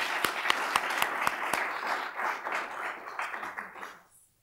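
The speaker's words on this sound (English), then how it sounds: "So give them one special round of applause," Audience at a housing event giving a round of applause, starting with a few sharp distinct claps that swell into a dense steady patter, then thin out and fade to silence.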